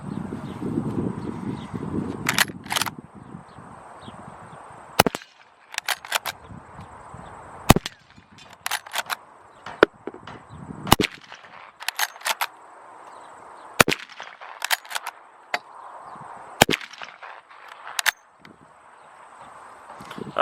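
Rossi .357 Magnum lever-action rifle firing hand loads and factory rounds outdoors, with a dozen or more sharp reports spaced irregularly and a faint background hum between them.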